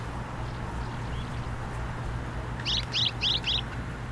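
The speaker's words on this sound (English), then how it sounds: "The Canary Island stone chats have mated." Canary Island stonechats in a blooming desert give four short, sharp chirping calls in quick succession near the end, clear above a steady low hum and soft background noise.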